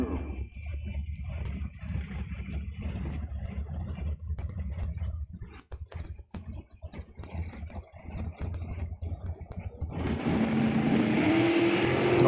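Bracket drag racing dragsters launch down a drag strip, a distant engine roar that swells into a loud, sustained blast near the end, after a stretch of quieter crowd and track ambience.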